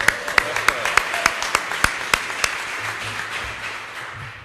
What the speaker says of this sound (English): by a round of applause, any Red Sox fans here today?